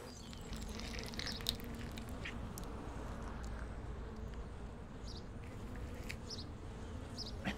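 Honey bees hum steadily around a hive, a dense continuous drone with occasional louder passes of single bees close by, no voices.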